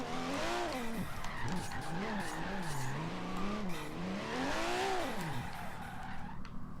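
A 1992 Toyota Supra 2.0 Turbo A-class drift car in Forza Horizon 3 slides through a parking lot, its engine whine rising and falling over sustained tire squeal that runs loud and close almost throughout.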